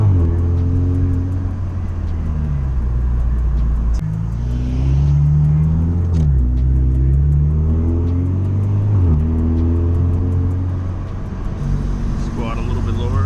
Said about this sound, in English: Those are exhaust, bro.